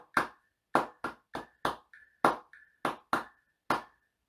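Hand claps beat out a second practice rhythm in a trumpet and cornet music lesson, about ten sharp, close claps in a syncopated pattern, with a faint ringing tick sounding between a few of them.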